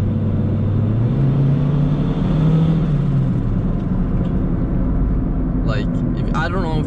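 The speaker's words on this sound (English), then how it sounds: "I let go of the gas and it's just fluttering" Off throttle, a turbocharged Honda Civic with a D16Y7 engine drones inside the cabin, its note easing and wavering as it flutters, while a voice talks over the engine throughout.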